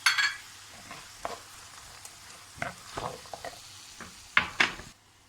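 A spoon stirs an artichoke dish with potatoes and whole walnuts in a pan, giving several close, separate scraping and clattering strokes over a faint sizzle, with quiet pauses between them and no talk.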